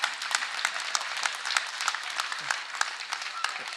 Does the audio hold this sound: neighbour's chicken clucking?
no